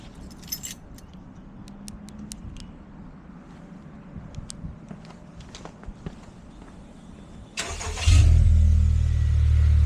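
Keys jingle and faint footsteps, then the engine of an Acura RDX fitted with an MHI turbo and PRL inlet pipe cranks and fires up, settling into a loud, steady rumble close by.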